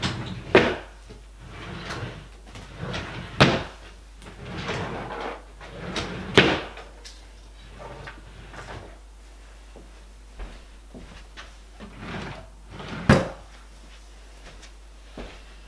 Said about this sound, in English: Now I'm gonna check your drawers to make sure you got no more dummies.